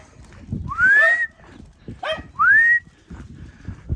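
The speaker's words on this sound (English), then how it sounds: "Whenever they hear that particular whistle, they know that I'm taking them down the lane here." Two sharp, rising human whistles call dogs down a lane, about a second and a half apart, with soft footsteps and outdoor shuffling around them.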